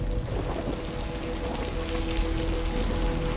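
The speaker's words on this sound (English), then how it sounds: "That's just rain, bro." Steady rain in a film scene pours evenly on surfaces, a dense continuous hiss with no voices, holding at the same level throughout.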